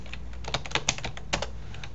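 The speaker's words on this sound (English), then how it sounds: "I'm typing it here in Amazon because I can't do it in Dell." Someone types on a computer keyboard in quick irregular bursts of crisp clicks, close up, over a low steady room hum, with no voices.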